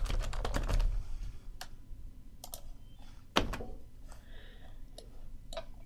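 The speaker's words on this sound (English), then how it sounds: "I'm going to type that line" Typing on a computer keyboard while working in Fusion 360: a quick flurry of keystrokes, then scattered single taps and a firm key press, close and clear with no talking.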